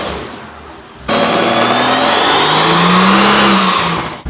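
A straight-piped RennTech-tuned Mercedes S65 AMG coupe on a dyno bursts into a loud, sustained rev. The close, harsh, rising engine roar runs for about three seconds after a quieter lead-in, with no talk.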